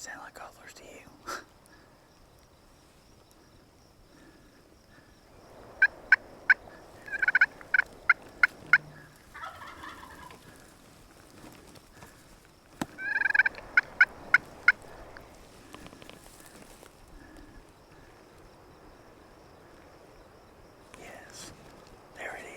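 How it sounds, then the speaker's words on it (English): Wild Merriam turkey gobblers answering from a distance outdoors, several short bursts of rattling gobbles in two clusters, faint against quiet ambience with insects, while people whisper nearby. "Sound like gobblers to you?"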